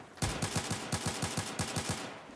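Pistol gunshots from a video game M9 handgun, a rapid run of about ten sharp evenly spaced shots, loud and close with no talking.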